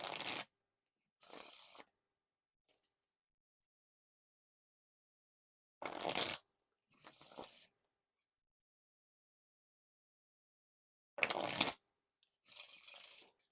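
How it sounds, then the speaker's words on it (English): Cards are riffle shuffled three times, each a quick fluttering burst followed by a softer bridging rustle, separated by quiet pauses. "Now for the riffle shuffle or bridge shuffle."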